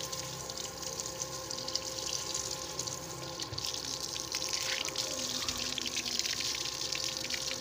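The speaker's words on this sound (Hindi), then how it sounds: "डीसी पंप चल गया माशाल्लाह ज़बरदस्त पानी का प्रेशर है" A 12-volt DC solar water pump runs steadily, pushing out a continuous rush of pressurized water with a constant hum and spray that holds at an even level throughout.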